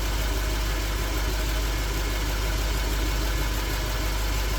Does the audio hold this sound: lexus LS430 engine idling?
yes